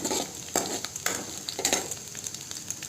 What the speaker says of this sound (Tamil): கடுகு போட்டுட்டு கட் பண்ணி வச்சுருக்க ஆனியனை போட்டு நல்லா வதக்கி விட்டுக்கணும்